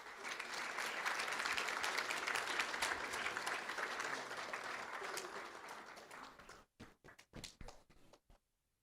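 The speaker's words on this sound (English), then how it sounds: "Let's give them a round of applause." Audience at a school district board meeting breaks into a round of applause, steady and dense for about six seconds before thinning into a few scattered final claps.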